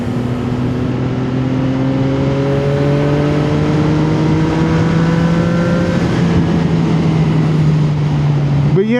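A CFMOTO 675SS motorcycle engine revs steadily for several seconds, loud and close, its rising pitch easing slightly before a sharp blip at the end.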